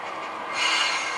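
A train rumbles along the rails close by while switching in a rail yard in Orange, California, with a metallic wheel squeal rising partway through the brief moment.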